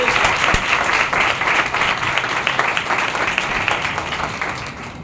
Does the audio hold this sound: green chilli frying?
no